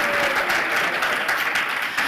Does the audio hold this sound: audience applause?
yes